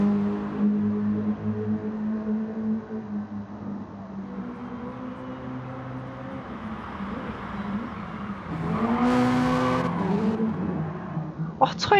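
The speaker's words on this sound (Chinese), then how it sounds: "吹油门吹这么猛" A race car in Gran Turismo Sport during an N300 race drones at a steady engine pitch, then revs hard with a brief tire skid near the end, while a commentator talks over it.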